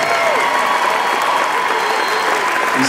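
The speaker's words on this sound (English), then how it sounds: "Let's give him a round of applause for Tadpole." A comic convention audience at Phoenix Comicon gives steady, dense applause for a Deadpool cosplayer, a sustained wash of clapping with faint crowd murmur throughout.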